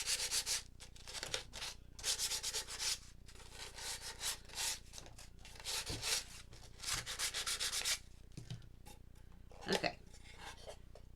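Someone hand-sands a wooden sewing machine drawer in repeated bursts of rasping strokes, close and fairly quiet, with brief pauses between the passes.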